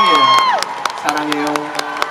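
A concert crowd at the 2016 Seoul Jazz Festival in Seoul claps and cheers loudly, dense and close, with whoops rising over the steady applause and a sustained voice carrying through the first half second.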